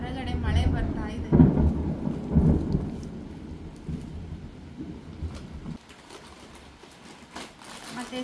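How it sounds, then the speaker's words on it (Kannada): Rain falls steadily outdoors with low rumbling thunder, loudest in the first half and then easing to a quieter patter of rain near the end. "ಹೊರಗಡೆ ಮಳೆ ಬರ್ತಾ ಇದೆ."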